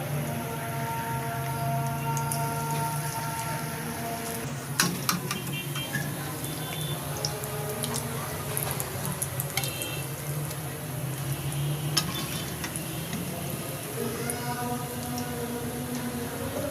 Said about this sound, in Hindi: मीडियम फ्लेम पे हम इसको फ्राई कर लेंगे।